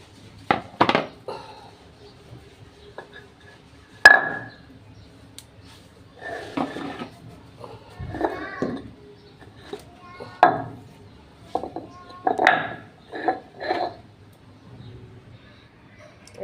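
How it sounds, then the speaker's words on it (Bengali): Neem leaves being ground by hand on a stone slab, producing intermittent scraping and knocking bursts at close range with quiet gaps between strokes, some faint voice in the background. "পাটায় বাইটা নিব, ব্লেন্ডার করবো না।"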